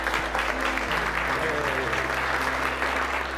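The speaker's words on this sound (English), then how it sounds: "let's give a warm round of applause for my mentor" A warm round of applause from an event audience greets a mentor taking the stage. It is a steady, even wash of many hands clapping over a low electrical hum.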